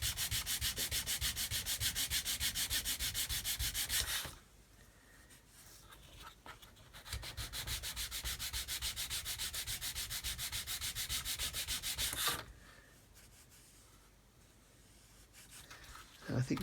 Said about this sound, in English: Okay, so go back to our sanding